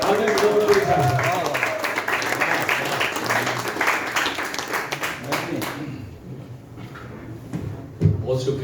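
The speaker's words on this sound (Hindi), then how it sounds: "भरपूर तालियों का इस्तेमाल कीजिए" Audience applause at a mushaira poetry gathering, a dense crowd clatter filling the first six seconds before thinning to scattered claps, with a voice speaking through it.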